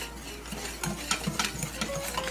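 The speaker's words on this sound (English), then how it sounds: "And I will whisk that together." Lemon and orange juice whisked together in a bowl, a run of quick light clinks and scrapes growing busier toward the end over a low steady hum, no talking.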